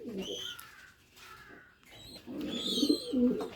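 Racing pigeons coo in low, rolling bursts close by, with a few other bird calls mixed in and short pauses between phrases.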